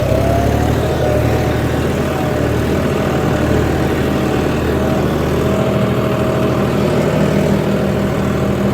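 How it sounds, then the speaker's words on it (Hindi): A John Deere 5310 GearPro tractor engine runs steadily and loud throughout, a constant low diesel rumble with no talk over it. "देखो स्पीड पकड़ रहा है, कवर कर रहा है अपनी, मतलब ट्रैक्टर में बहुत ज़्यादा दम है जी।"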